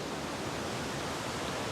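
Stream water flowing down from the Naubahini waterfall in Pyuthan rushes in a steady, dense broadband roar, continuous and close, with no voices.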